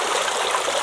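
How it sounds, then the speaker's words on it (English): Rushing water from a small waterfall pours steadily and close, a dense continuous broadband hiss with no pauses and no voices. "Hopefully you can hear me over that waterfall."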